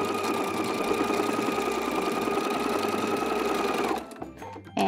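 A sewing machine stitches the ends of bloomer elastic together, a fast, steady mechanical whirring hum up close for about four seconds before it stops, leaving a few quiet clicks.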